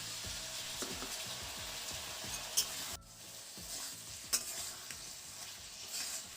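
A little water is added to raw tamarind frying for a sweet chutney, raising a soft continuous sizzle with a brief dip partway through and light utensil clicks, quiet and without talk.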